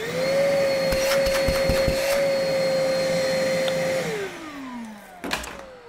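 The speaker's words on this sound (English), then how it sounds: "The vacuum is pulling the dust through here, separates in here, comes back into here" A Milwaukee shop vacuum fitted with a debris separator hums loudly on its low setting with a steady whine, punctuated by clattering debris, then winds down with a falling pitch as it is switched off, ending with a few knocks.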